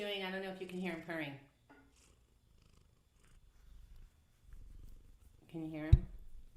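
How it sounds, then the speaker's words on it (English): A soft, low cat purr rumbles quietly beneath a person talking, with a gap of near silence in the middle. "I don't know if you can hear him purring."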